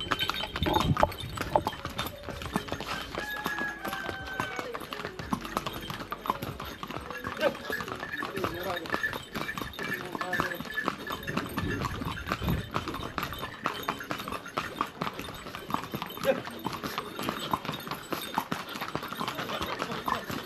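Horses walk in Kanyam, Ilam, their hooves clip-clopping in a quick, steady rhythm close by, while people talk over the hoofbeats throughout.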